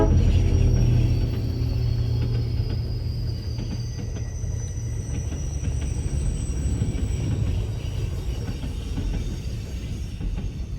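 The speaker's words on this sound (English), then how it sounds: "Comes the Alaska Railroad." An Alaska Railroad train passes alongside a highway, giving a loud, continuous low rumble with faint rattling and wheel noise that holds steady throughout.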